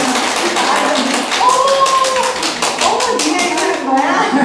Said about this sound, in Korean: 자, 물개박수 한번 해볼까요? 물개박수.